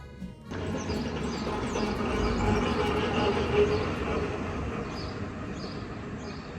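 Steady low rumble and rattle of a train rolling along rails in Switzerland toward Zermatt, continuous and fairly loud, with faint higher squeaks drifting over the drone.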